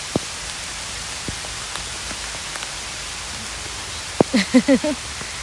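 Heavy rain falls steadily outdoors as a soft continuous patter with scattered drip taps, and a person's voice briefly cuts in near the end.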